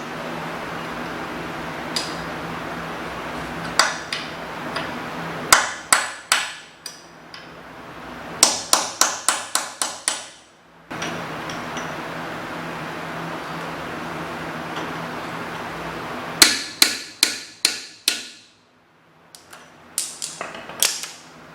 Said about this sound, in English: I've gone back to the hammer and punch.